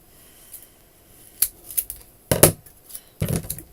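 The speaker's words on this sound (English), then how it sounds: "let's grab my scissors" Scissors snip through foam tape at a craft table, several crisp separate cuts with short pauses between them, close and fairly loud with no talking.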